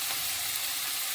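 Tomatoes with a pinch of salt sizzle in a hot frying pan, a steady bright crackling hiss, close and continuous, with no talking over it.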